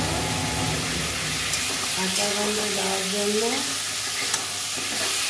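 A turmeric spice paste fries in oil in a pan, making a loud, continuous sizzle with stirring scrapes and a faint voice briefly under it midway.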